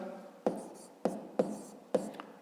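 Pen strokes write out a maths solution on paper, four short sharp taps or scratches spaced about half a second apart, close and quiet.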